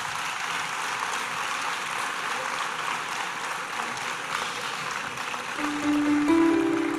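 Steady crowd applause at a town festival presentation ceremony, many hands clapping evenly at moderate distance, with a faint sustained tone rising near the end.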